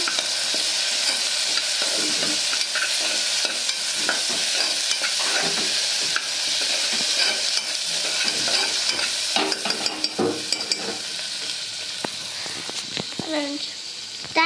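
Monitor lizard curry frying in a pan is stirred with a steady close sizzle and repeated scraping strokes, loud and continuous, with faint voices nearby.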